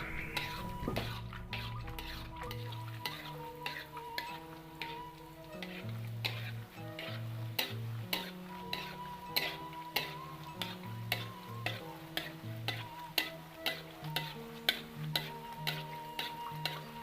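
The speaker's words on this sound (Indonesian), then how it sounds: "Kita goreng sampai mengembang, berbunyi kresek-kresek dan nyaring ya seperti biasa." Cimol tapioca balls fry in oil over a low flame with a soft crackle, while regular ticking clicks and a tonal musical background run throughout.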